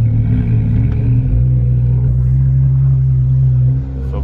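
A Ford Focus RS car engine idling and rumbling loudly close by at a Porsche event, a deep steady throb with a shift in tone partway through and a slight fade at the end.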